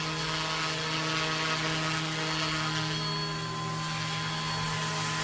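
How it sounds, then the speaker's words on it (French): An Amewi Bell 222 Airwolf radio-controlled model helicopter hovers in place, its steady high-pitched whine and buzzing rotor hum continuous and close, with no talk. "C'est vraiment un très très bel hélicoptère."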